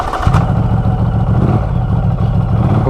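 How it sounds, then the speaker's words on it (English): A 2024 Norton Commando 961 SP motorcycle engine fires up and settles into a loud, close, throbbing idle, with a lumpy low rumble and mechanical clatter running steadily throughout. "when you get on the bike and you just start this engine up, it sounds amazing"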